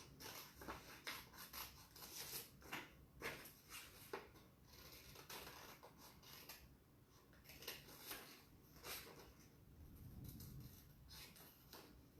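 Scissors snip through paper in a run of short, crisp cuts with uneven pauses, close and fairly quiet, with no voices.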